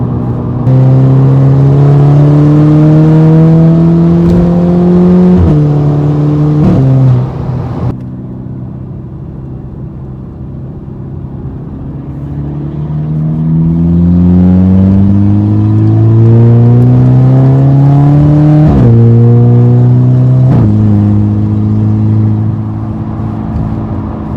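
A catless, straight-piped 300 hp MK6 Golf GTI with a stratified tune pulls at about half throttle, its loud exhaust droning through two gear changes, easing off, then climbing again through further shifts with a rumbling, close tone.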